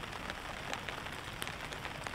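Rain patters steadily on a taut camping tarp overhead, a dense hiss with scattered louder drops tapping near the listener.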